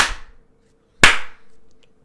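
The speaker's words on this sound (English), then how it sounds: "they're using like more like clapping" Two sharp, crisp claps in a Nintendo video game about a second apart ring out over a faint steady hum.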